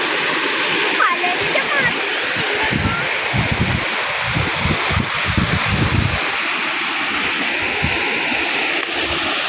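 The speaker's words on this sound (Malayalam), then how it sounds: "തോട്ടിൽ നിന്നൊക്കെ വെള്ളം പോകുന്നുണ്ട്" Water rushes steadily out of a stream into flooded paddy fields, a continuous near splashing flow with rustling throughout.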